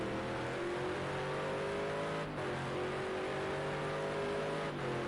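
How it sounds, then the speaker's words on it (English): An onboard GT1 race car engine roars during a lap at the Algarve circuit, a loud, continuous engine drone with shifting harmonics and two brief dips where the revs change. "you can hear that engine roaring"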